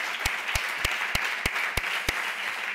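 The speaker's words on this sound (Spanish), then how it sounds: "Un aplaudiment." At a Catalan live comedy show, about seven sharp, evenly spaced hand claps ring out at a steady rhythm, fairly faint and isolated against a quiet background.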